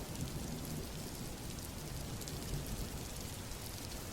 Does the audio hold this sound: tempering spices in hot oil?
no